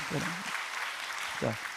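A church congregation applauds in a continuous soft patter during a Sunday service, with voices speaking in Korean over the clapping.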